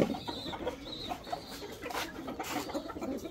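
Chickens cluck and murmur softly nearby, a few short calls rising over a steady rustling background.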